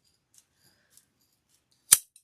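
Scissors make a single sharp snip through a balloon, loud and close, with a few faint clicks before it in otherwise quiet surroundings.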